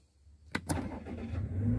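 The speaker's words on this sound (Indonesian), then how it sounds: "Nah, seperti ini engine sudah nyala." An automatic car's engine cranks briefly with two quick catches, then settles into a steady idle that grows louder and fuller, heard close up after a single press of the start button.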